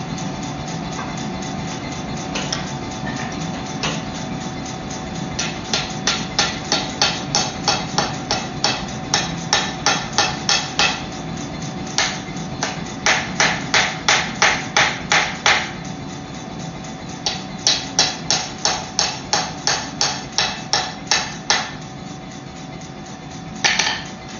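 Rhythmic metal hammer blows on an anvil while forging a knife, bursts of evenly spaced ringing strikes with short pauses between runs, close and loud over a steady shop hum.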